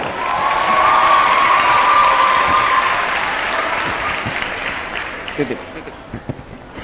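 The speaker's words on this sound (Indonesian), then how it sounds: "Kasih tepuk tangan ini buat Reno." Loud applause and cheering from a crowd of university students at a campus welcome event, swelling early then gradually fading, with a few scattered claps and voices near the end.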